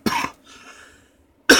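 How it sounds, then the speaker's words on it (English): Inside an old VW bus, a person with a lingering cough lets out a short double cough, then, after a brief quiet pause, another sharp cough begins at the end. "I, too, still have a lingering cough"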